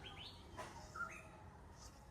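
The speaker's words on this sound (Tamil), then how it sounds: "குருவி சத்தம் எல்லாம் அங்க நிறைய பறவைகள் சரணாலயம் மேல அப்படியே காட்டும்" Small birds chirp faintly outdoors near a bird sanctuary in green surroundings, giving a few brief, scattered calls over a low, steady background hiss.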